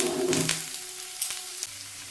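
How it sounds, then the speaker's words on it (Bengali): Vegetables and green chillies frying in a pan, a steady soft sizzle with a couple of faint clicks of a spoon, quieter after the first half second. "এই যে সবজিগুলো মোটামুটি ফ্রাই হয়ে গেছে"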